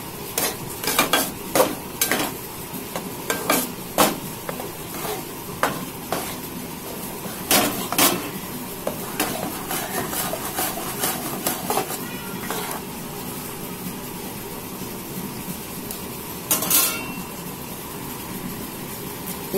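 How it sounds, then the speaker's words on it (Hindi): A spoon stirs bread powder into milk in a pan, making repeated sharp metallic clinks and scrapes against the metal in an uneven rhythm, with a soft, steady background hiss between strokes. "अब इसमें ब्रेड का पाउडर डालेंगे। इसे मिक्स करेंगे दूध को।"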